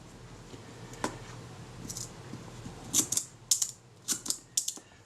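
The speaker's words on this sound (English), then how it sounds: "That shutter's running nicely, that's good." A Kodak Retina IIIc camera shutter, under servicing, clicks and snaps several times, crisp close ticks in quick pairs against a quiet room hiss.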